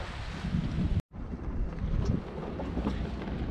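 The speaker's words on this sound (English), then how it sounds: "it's too windy to go anywhere" Steady, loud wind at Staniel Cay in the Bahamas buffets the microphone with a dense roar, broken by a brief dropout before the gusting rumble resumes.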